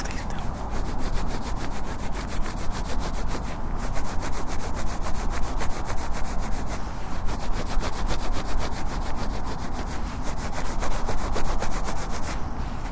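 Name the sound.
ASMR rubbing sound, role-play of rubbing cheeks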